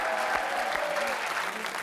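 A studio audience on a French TV game show claps steadily, a dense, fairly close burst of applause that holds at an even level throughout.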